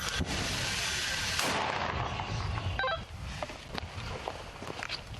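A heavy boom of mortar fire near Klishchiivka, followed by a few sharper distant cracks and pops against a rumbling background.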